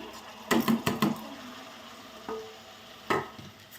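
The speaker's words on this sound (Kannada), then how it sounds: "ಇವಾಗ ತೊಳೆದಿಟ್ಟಿರೋಂಥ ಅಕ್ಕಿನ ಸೇರಿಸ್ತೀನಿ" Washed Sona Masuri rice goes into cooked pulao vegetables and is stirred in a pot, giving a few clustered scraping and clinking strokes, a pause, then one more stir, close and moderately loud, with no talking.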